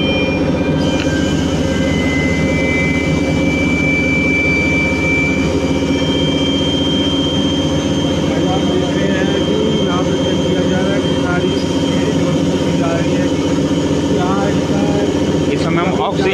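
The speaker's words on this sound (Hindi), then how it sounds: "इस समय हम ऑक्सीजन जनरेटर प्लांट में हैं" Oxygen generator plant machinery at a hospital running with a loud, constant low roar and steady mechanical hum, broad and unchanging throughout, with faint background sounds layered over it.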